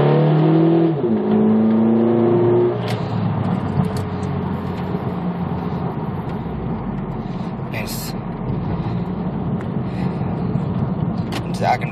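A 2006 Mitsubishi Eclipse engine runs at half throttle with a misfiring cylinder, a loud, steady droning roar heard from inside the car after a brief rising rev, with some talk over it.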